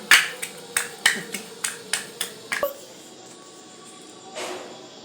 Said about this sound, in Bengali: রসুনগুলো থেতো করে নিচ্ছি।